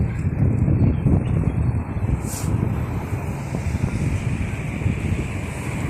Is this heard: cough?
no